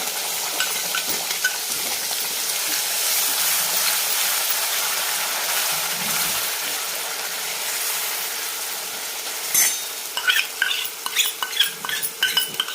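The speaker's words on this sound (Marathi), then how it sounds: "आणि आमच्या चॅनलचं खास हे काळं तिखट आहे, हे पण आपण टाकून परतून घ्यायचं तेलामध्ये." Chicken masala and black chili powder being stirred and fried in hot oil for a dry chicken dish, a steady close sizzle with scraping of a spoon against the pan growing busier toward the end.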